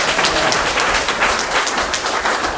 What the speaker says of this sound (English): Let's give a round of applause for Jeremy